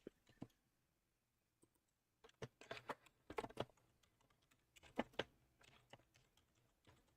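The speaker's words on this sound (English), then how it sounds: "Sorry, you can hear my typing." Someone types on a computer keyboard in irregular bursts of crisp clicks. The keys are close and fairly quiet, with brief pauses between runs of typing and no speech.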